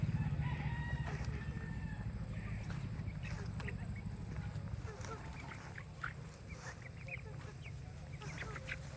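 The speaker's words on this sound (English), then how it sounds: "Yeah, very docile chicks." Chickens and young chicks at a home in the Philippines, with crowing and clucking calls scattered over a steady outdoor background, fairly close, mostly without talk.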